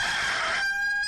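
Roosters crow in the background, a single drawn-out cock-a-doodle-doo call carrying over faint noise, heard alone without speech.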